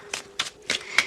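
Tarot cards being shuffled in a few quick riffling bursts, each a short crisp papery flutter, close and fairly quiet, with no voice.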